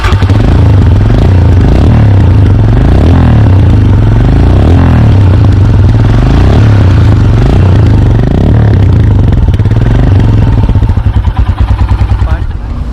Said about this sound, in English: So I can show you the exhaust sound in BS6.